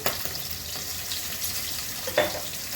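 Turmeric going into hot frying oil for a rohu fish curry with kalo jeera, giving a low steady sizzle with a brief louder burst of spattering near the end.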